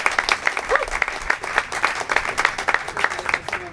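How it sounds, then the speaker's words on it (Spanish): Applause from an audience at a book presentation at the Casona de Humahuaca, a fairly even stream of individual claps from a modest crowd, moderately loud and continuous. "Así que fuerte el aplauso para la Casona de Humahuaca"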